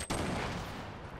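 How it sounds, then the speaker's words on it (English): A grenade explosion in Fortnite hits as a sudden loud blast followed by a dense, rumbling decay that fades over about a second, with no voices. "He's throwing grenades down."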